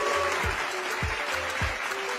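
Close applause and cheering from an audience at a child dedication celebration, with a dense wash of clapping and low rhythmic thumps of music beneath.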